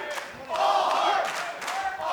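A wrestling arena crowd cheering and chanting for Blake Christian in a match against Samoa Joe, a loud, dense roar of many voices that swells and pulses over about two seconds.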